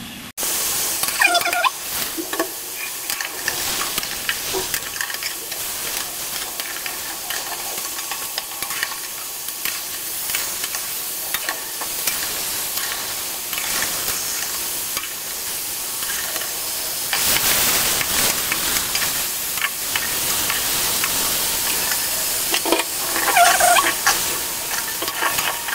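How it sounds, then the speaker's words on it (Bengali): Meat fries in a pan with a steady hiss throughout, and intermittent scraping and clinks from a spoon stirring it. The sizzle swells louder during the latter half. "মাংস ফ্রাই হয়ে এসেছে।"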